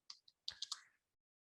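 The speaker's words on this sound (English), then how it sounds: "Okay, I need to keep on typing." Quick keystrokes on a computer keyboard come through as a few soft, close clicks: two light taps, then a short burst of three, in an otherwise quiet room.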